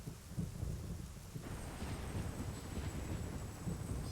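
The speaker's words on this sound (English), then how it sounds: "This is one of the best video game rain and thunder sounds I've heard." Rain and thunder from the video game Armored Core 3: a steady, dense downpour with low rumbling thunder rolling underneath, continuous throughout.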